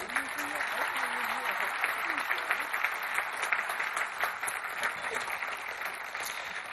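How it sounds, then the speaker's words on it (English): Moderate, distant applause from a crowd at a Columbine shooting memorial, honoring young people, a soft continuous wash of clapping with a voice briefly audible at the start. "about one more round of applause for our young people?"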